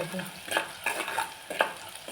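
Tomatoes tipped into onions frying in hot oil with cumin in a clay pot, stirred in a few quick close scrapes over a soft steady sizzle, with no talking.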